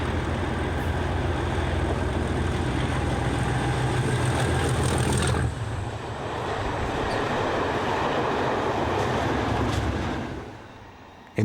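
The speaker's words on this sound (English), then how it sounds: "Later, the train returns at Landau." Passenger train on the Vale of Glamorgan line near Aberthaw power station, running at about 60 mph. It rolls past close by with a steady loud rumble that shifts midway, then fades away toward the end. No speech.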